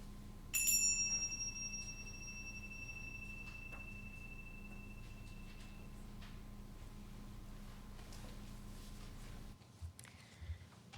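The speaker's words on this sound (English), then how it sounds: "let us center our hearts and minds with the ringing of the chimes" Chimes ring out at a church service, a bright bell-like strike that sustains and slowly fades, followed by quiet room tone with faint shuffling.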